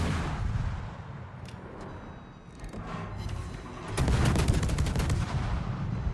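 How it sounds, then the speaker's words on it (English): Gunshots sound over a low, rumbling background, with a few sharp cracks early on and then a dense run of rapid shots near the end, moderately loud and without talk. "There's the shots, but we managed to accelerate out of them before they hit us."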